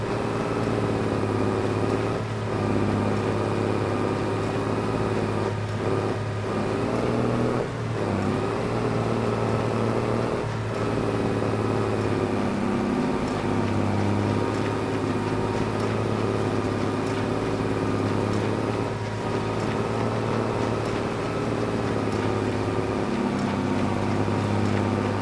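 A tractor engine in a farming video game drones steadily under heavy load, a loud, continuous low hum with slight rises and dips as it labors uphill, no voices over it.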